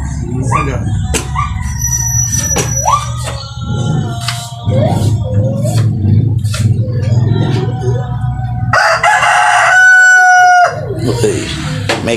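A rooster crows a few times amid clucking fowl and background farm noise, fairly close.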